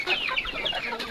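Chickens cluck on a poultry farm raising heritage birds, several close, quick overlapping clucks and squawks over a short burst, fairly loud and with no talking.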